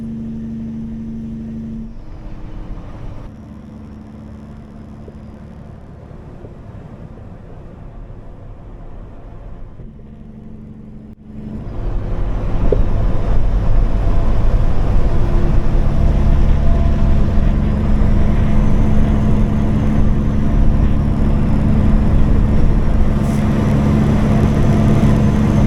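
Repaired diesel vehicle running, first a lower idling drone that then rises into a loud, steady engine roar which holds for the rest of the stretch, with no voices.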